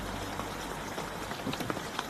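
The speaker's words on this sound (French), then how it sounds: "Il pleut des cordes." Heavy rain pours down in a city street, a dense, steady patter of drops with occasional louder splashes, fairly close and without voices.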